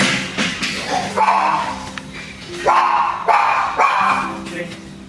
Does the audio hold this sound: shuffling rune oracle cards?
no